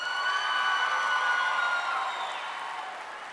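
A high school graduation crowd in 2014 applauds, with sustained clapping mixed with cheers and whoops from many voices, loud and continuous before easing slightly toward the end.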